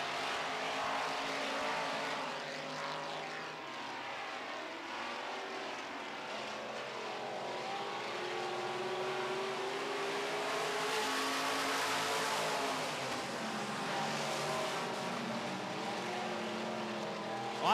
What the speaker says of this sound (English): Here we go, we're racing.